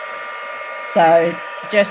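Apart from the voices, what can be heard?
heat gun heating embossing powder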